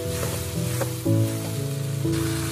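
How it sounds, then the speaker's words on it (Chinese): Chicken legs sizzle in a pan for scallion oil chicken, a steady frying hiss with the clatter of chopsticks turning the pieces and a low hum running underneath. "所以我们煎制的时候快速的用筷子翻动一下，让它在锅里受热更加的均匀，但也不会烧焦。"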